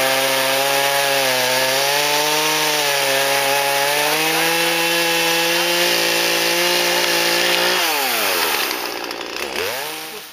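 A loud chainsaw runs steadily while cutting wood during an overland trip in Transylvania, its engine whine holding a constant pitch before dropping and surging as the bar bites, then trailing off near the end; no one speaks.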